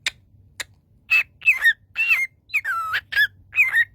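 Pet talking bird singing on request, a close, loud series of squeaky whistled chirps and warbling calls in short bursts with brief gaps between them.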